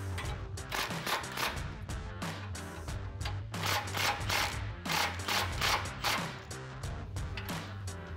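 Bolts on a 2021-2024 Ford Bronco RedRock HD modular grille guard are snugged with a power tool, loud repeated ratcheting impact bursts in quick rhythmic runs, close and without talk.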